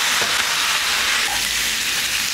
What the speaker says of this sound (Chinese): 下锅炒